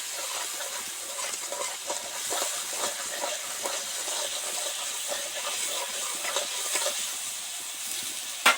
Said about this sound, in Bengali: এই লিকুইড মশলাটা এবার তেলের মধ্যে দিয়ে দিচ্ছি। মশলাটা 2-4 মিনিট ধরে ধরে ভাজতে থাকবো।